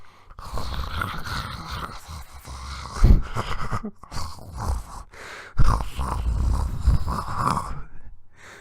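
A voice imitates a crackling campfire with breathy hissing, rough crackles and occasional sharp pops, continuing steadily for several seconds.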